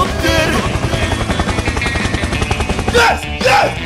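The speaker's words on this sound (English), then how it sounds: "Helicopter! Helicopter!" A helicopter sound from a Minecraft animation gives a loud, continuous rhythmic thumping and whir, with brief excited shouting breaking in near the end.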